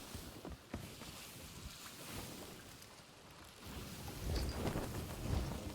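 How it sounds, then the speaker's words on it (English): A video game thunderstorm with steady rain and a low rumble of thunder, a continuous wash of noise that swells louder toward the end, with no talk over it. "Oh, it's in the middle of a storm."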